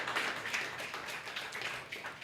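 Audience applause at a live spoken-word or poetry show, a short burst of scattered hand clapping heard from the room, fairly faint and slightly uneven.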